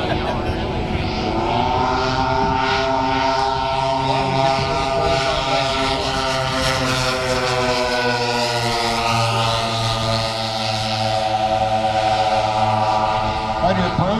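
A radio-controlled model B-29 bomber at an RC airshow makes its landing approach with gear down. The steady layered drone of its propeller engines carries throughout over wind noise, with a voice talking along.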